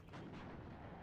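High-explosive bomber strikes in the WARNO strategy video game land as a dense, faint, rumbling burst of explosions, a continuous muffled boom lasting about a second with no voices.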